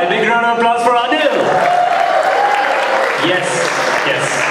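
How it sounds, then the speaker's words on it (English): A crowd applauds a talent-show performer, Anil Gupta, at Saratoga's Got Talent 2013: dense, steady clapping fills the whole stretch, with voices and tonal sounds carrying over it. "A big round of applause for Anil."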